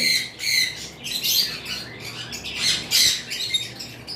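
Several yellow-sided pineapple conures squawk in repeated harsh, shrill bursts, close and fairly loud, with brief pauses between calls and no talking.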